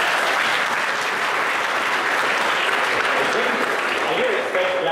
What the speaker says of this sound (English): I didn't expect claps for that.